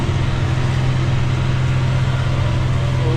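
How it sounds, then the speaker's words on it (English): A Massey Ferguson 5S tractor mowing a soft field runs with a loud, steady engine drone that holds an even pitch without letup and has no voices over it. "Tractor's just sailing"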